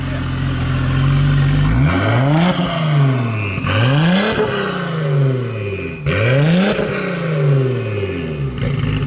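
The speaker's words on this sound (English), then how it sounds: "Can you give it a couple revs?" A 500 hp 2JZ engine in a Ford Fairmont idles, then is revved hard three times, each rev climbing sharply and falling back, loud and close.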